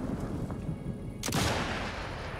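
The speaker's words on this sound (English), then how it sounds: "What are you shooting at?" A single sharp gunshot cracks out in the Sniper Elite 5 video game, standing out loudly against a steady rumbling background of in-game ambience.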